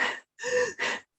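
Three fast, sharp panting breaths come close and clear in quick succession, each a short airy rush separated by brief silences.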